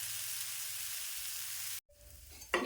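A gram flour masala dosa fries in a pan with a bright, steady sizzle. The sizzle cuts off abruptly, a quieter hum follows, and a sharper burst of sizzling returns at the end.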